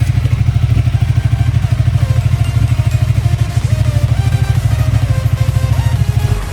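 Motorcycle engine at a race track trackday, a loud close steady rumbling drone with a rapid pulsing throb throughout and rising whine as it revs, no talking.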